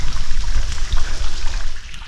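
Water flows and trickles steadily inside a long railway tunnel on the upcountry line. The gurgling and splashing is fairly loud and echoey, with no speech over it.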